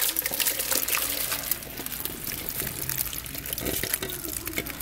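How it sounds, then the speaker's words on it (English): Chili poured into a crock pot, giving a wet, splashy, uneven glugging with bursts of liquid movement over several seconds at moderate loudness. "So I'm gonna go ahead and just pour everything in there."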